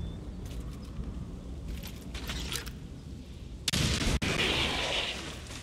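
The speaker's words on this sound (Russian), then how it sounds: "Это был хороший выстрел." Gunfire in the XCOM 2 video game: a loud, sharp shot bursts out after a stretch of low rumbling game ambience, followed by a brief dropout and a sustained noisy blast.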